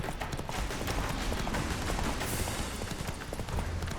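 Horse hooves clip-clopping at a quick gallop in the Witcher 3 video game, a dense, rapid, close beat running through the whole stretch under game noise.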